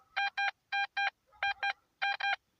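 A metal detector emits repeated electronic beeps in short paired bursts while sweeping a field for coins, buttons and aluminium, giving a clear, steady, moderately loud tone with no talk.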